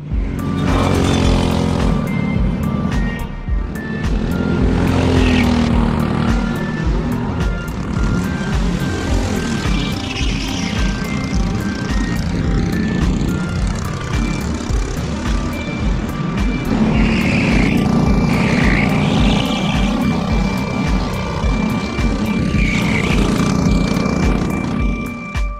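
Go-karts racing on an outdoor track in Idaho, a constant buzzing drone of small engines that rises and falls as karts pass, with several passes blending into a steady loud roar.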